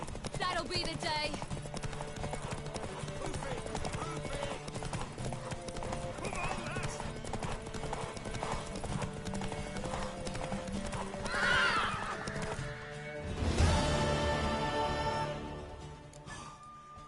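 Horse hooves clip-clopping in The Witcher 3 as a mare moves along, with a brief whinny, under game music and character dialogue throughout, swelling louder near the end.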